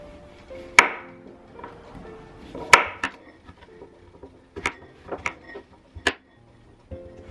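A knife chopping a radish into fourths on a wooden cutting board, a handful of sharp, separate knocks spaced irregularly, close and clear with faint background hum.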